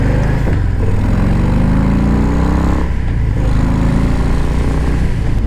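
A motorcycle idles at a stoplight on a street, its engine a loud, steady, close low rumble that holds for several seconds with a slight swell near the middle and no talking.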